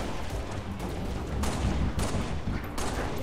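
Dense, continuous gunfire in the Halo: Reach video game, a sustained roaring fusillade of rapid shots with no talk, swelling louder in bursts across a few seconds.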